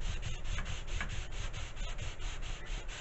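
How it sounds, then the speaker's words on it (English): Sandpaper rubs back and forth along the leading edge of a wooden part for a TSA Floater build, a close, steady rasping with a regular stroke rhythm and no talking. "I'm going to go ahead and sand that down so I can determine."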